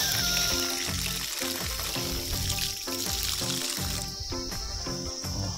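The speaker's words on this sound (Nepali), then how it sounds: "भित्र पनि ट्याङ्की रहेको छ सिन्टेक्स यहाँबाट पानी खसिरहेको छ" Water pours down from a Sintex plastic water tank at a temple path, making a steady splashing, trickling stream that continues with little change, close by and alone.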